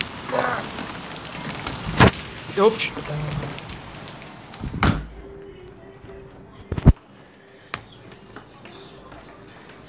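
Pattering of hail on a surface with sharp, scattered impacts during a thunderstorm, a startled voice exclaiming in French over it before the shower thins out.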